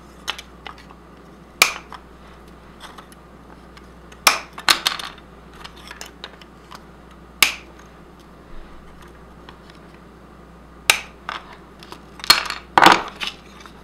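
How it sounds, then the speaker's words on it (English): Wire cutters snip metal pins off a dollhouse canopy bed, giving sharp isolated clicks spaced a few seconds apart, close and crisp, with small rattles and handling noises between cuts and no talking. "you want to go ahead and cut them off with a pair of cutters"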